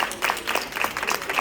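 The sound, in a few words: applause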